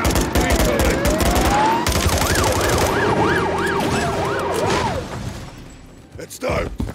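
A wailing ambulance siren rises and falls amid a loud Call of Duty Modern Warfare III battle scene, with gunfire bursts and shouted voices over it, the siren fading out as things quiet.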